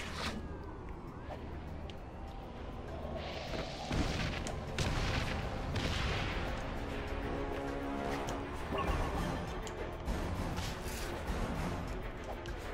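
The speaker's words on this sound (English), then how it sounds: "That's a lot of blue explosions happening." Blue explosions in the Spider-Man Web of Shadows PC game, played with mods: several heavy booming blasts and rumbling bursts that overlap in a loud, chaotic battle, with short gaps between them.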